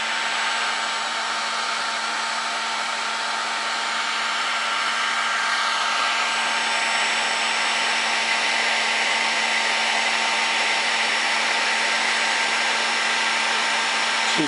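Heat gun blowing steadily on heat shrink tubing over a waterproof wire cable connection, a continuous close airy roar with a faint motor whine, alone and unchanging throughout.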